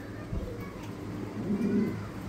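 A male pigeon at a pigeon farm coos in low, soft pulses, fairly faint against background noise, while a person talks over it.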